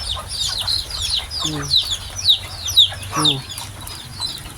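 Several McLean Sweater gamefowl chickens cluck and call in short bursts close by, with overlapping bird chatter and a few louder clucks standing out.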